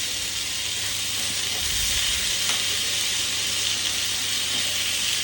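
Washed potatoes sizzle steadily in a hot pan, a continuous loud hiss of frying that holds evenly throughout with no talking.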